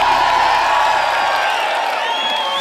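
Loud, sustained crowd cheering and whooping from an audience greeting a performer on stage, a dense wall of many voices that stays strong and fades slightly at the end.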